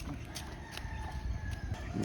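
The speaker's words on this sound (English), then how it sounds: "You see the chickens over there? See the baby chickens?" Chickens and chicks clucking and a rooster crowing at a distance in the Philippines, with scattered sharp calls over a faint steady outdoor background.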